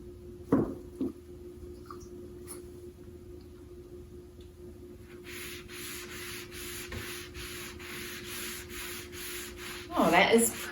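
A sponge rubbing finish onto a wooden coffee table, a soft continuous scrubbing and swishing with faint taps and a louder handling bump near the end.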